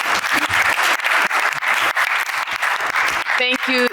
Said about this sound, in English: Big round of applause for all them.